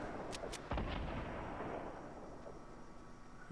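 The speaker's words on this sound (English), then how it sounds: "I'm going to shoot a rocket towards the bottom of the ramp." A rocket launched at an enemy ramp in Fortnite fires with a single heavy boom, preceded by two brief high whooshes and trailing into a fading rumble with no voices.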